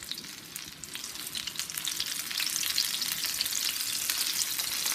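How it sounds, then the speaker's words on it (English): Okra fries in hot canola oil with a bright, steady crackling sizzle that swells slightly louder after the first couple of seconds, close up and with no talking. "You hear that sizzle?"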